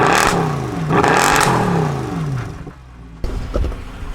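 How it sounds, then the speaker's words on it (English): A tuned Mercedes C63 engine with a raspy exhaust is blipped several times up close, rising and falling revs with a gritty edge, then settling briefly before another sharp throttle burst. "Let's get a couple revs here."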